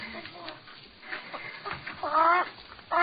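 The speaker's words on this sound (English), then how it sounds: "That's a chicken. She's a fat one." A fat hen clucks in a radio crime drama, giving a few short clucks and then a louder, raised squawk near the end, amid scattered low background voices.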